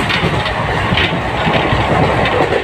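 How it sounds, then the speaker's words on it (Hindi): A passenger train on the Daltonganj to Ranchi line runs at full speed, a loud, steady rumble of wheels and rattling carriages with rhythmic clatter, heard from on board. "पूरा स्पीड में चल रहा है अभी हम लोग का ट्रेन"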